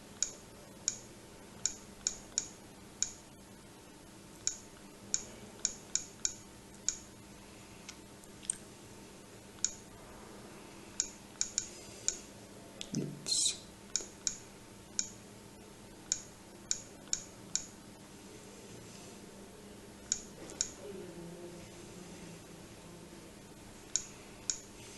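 Keypad buttons on a Trimble M3 total station are pressed one after another, producing small, sharp, quiet clicks in irregular bursts over a faint steady background hum.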